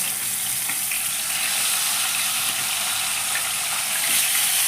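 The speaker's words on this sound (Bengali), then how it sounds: "এবার মাছের মুড়োগুলোকে আমি এক এক করে ভেজে নিচ্ছি।" Fish heads frying in hot oil in a wok make a continuous, dense, loud sizzle with a bubbly, wet texture that holds steady from start to finish.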